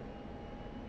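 Steady, even aircraft engine drone from a huge aerial refueling tanker flying directly overhead in the DCS World flight simulator during an F-16C daytime refueling, heard as a continuous low rumble with no talk.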